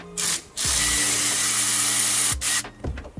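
A ratchet works on a 12 mm alternator bolt in a Subaru STI engine bay, producing a loud, sustained whirring buzz broken by short gaps and a few clicks, close by with no talking.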